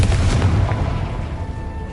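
A Confringo fire-blast spell cast in Hogwarts Legacy lands as a loud, heavy boom, a deep rumbling explosion that rolls on and slowly fades over two seconds.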